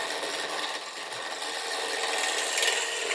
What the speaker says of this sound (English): so we're taking this big square block of wood, and we're just real slowly cutting the corners off.